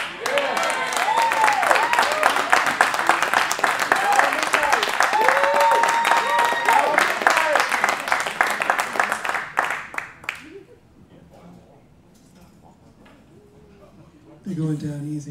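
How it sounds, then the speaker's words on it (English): Applause from a jazz club audience after a Thelonious Monk tribute set by a quartet, loud, dense clapping with whoops and cheers for about ten seconds, then fading to scattered claps before a voice speaks. "You can give him a little bit more applause"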